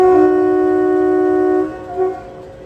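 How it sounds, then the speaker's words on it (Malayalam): Veraval–Junagadh meter gauge passenger train departing Veraval station, a loud sustained horn blast lasting over a second and a half, followed by a shorter second toot as it fades. "അങ്ങനെ ഗിർ ഫോറസ്റ്റ് വഴി പോകുന്ന നമ്മുടെ വെരാവൽ ജുനാഗഡ് പാസഞ്ചർ അങ്ങനെ വെരാവൽ സ്റ്റേഷനിൽ നിന്നും പുറപ്പെട്ടിരിക്കുകയാണ് കേട്ടോ."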